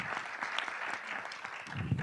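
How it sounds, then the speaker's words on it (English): Applause from an audience at a Black History and Culture Day commemoration honoring Recy Taylor, a steady patter of many hands clapping for about two seconds, moderately loud, with no speech over it. "So can we give her a round of applause?"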